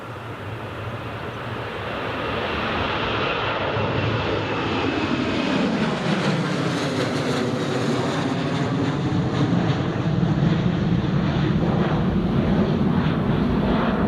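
A SunExpress Boeing 737-800 jet in special livery at Newcastle Airport gives off a loud, sustained jet engine roar that builds and holds steady, with a broad rushing tone and a slowly shifting pitch.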